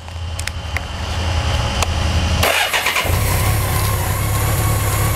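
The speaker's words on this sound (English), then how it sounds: "So now I'm going to start the bike and just kind of run it through a couple paces." A 1986 BMW K100 cafe racer motorcycle engine cranks with a starter whine, then catches and settles into a steady, loud running idle.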